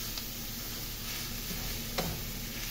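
Ground meat frying in a pan for empanada filling gives a steady, moderately quiet sizzle with a couple of faint ticks and clinks, and no talking.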